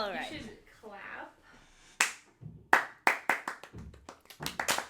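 A voice speaks briefly, then a few podcast hosts in a studio break into close, sharp clapping, a handful of loud separate claps followed by a quicker uneven run of them.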